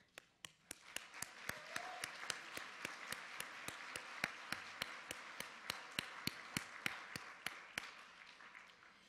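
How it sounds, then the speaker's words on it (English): Applause at a spring gala: a few people clap in a slow, steady, evenly spaced rhythm, each sharp clap distinct over a soft room hum, continuing for several seconds at a quiet, distant level. "I want to give a big round of applause to Brotherhood again"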